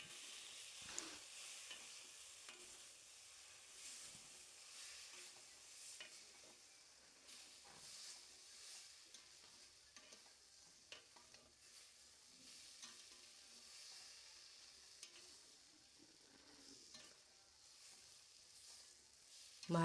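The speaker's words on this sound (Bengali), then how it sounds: "এবার আমি ওর মধ্যে দিয়ে দেবো হালকা ভেজে রাখা চিংড়ি মাছগুলো। চিংড়ি মাছগুলো ওর মধ্যে দিয়ে ভালো করে নাড়াচাড়া করে নেব।" Lightly fried prawns are stirred into cooked spice paste in a pan for Bengali prawn malai curry, a soft continuous sizzle with scattered scraping clinks of the spoon, fairly quiet and unbroken by talk.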